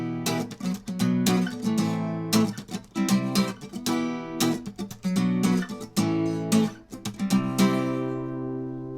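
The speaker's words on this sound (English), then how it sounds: "So here's a rundown of the chorus with a little bit quicker, a little bit more chucking." An acoustic-style guitar strums the chorus at a fairly quick pace, with percussive muted chucks between chords. The playing is close and rhythmic, and nobody speaks.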